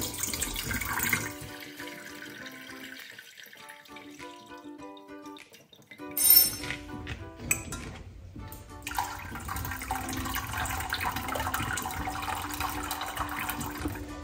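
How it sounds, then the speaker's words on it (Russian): Water from cooked zucchini drains and gurgles away with a rushing swirl, then a steady trickling stream continues, alongside some clinking and faint tonal sounds in the background. "Воду сливаю через 10 минут."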